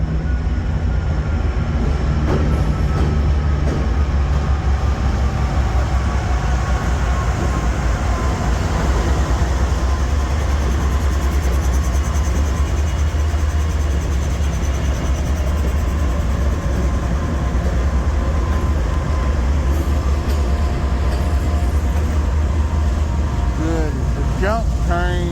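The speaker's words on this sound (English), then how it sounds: "this may be my train" A freight train approaches and passes at close range, giving a loud, steady rumble and clatter that fills the whole stretch with no letup.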